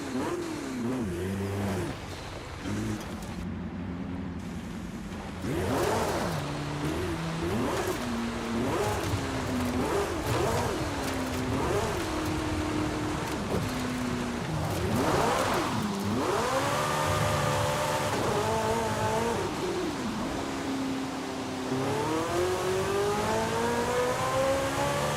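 A rear-wheel-drive car with a ten-speed gearbox in Forza Horizon 5, its engine revving and accelerating again and again through gear changes, with rising and falling pitch sweeps and a sustained loud drone that climbs steadily near the end.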